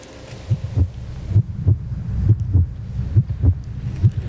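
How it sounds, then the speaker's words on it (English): Heartbeat sound effect played at an award ceremony: steady paired lub-dub thumps repeating at a regular pace, low and booming over a faint hum, with no voices. "It's not my heart that's beating, but it's the heart of the winners that you hear."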